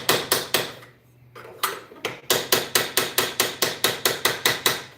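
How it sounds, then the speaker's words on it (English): Hammer striking steel during handle work, a rapid series of sharp metallic blows repeating steadily after a short pause, loud and close, with no talk over them. "As gentle as a hammer on steel."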